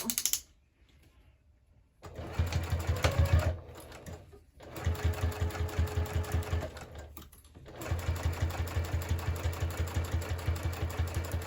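A sewing machine stitches a crossbody bag in three runs of rapid, even thumping, with short pauses between them, close and fairly quiet.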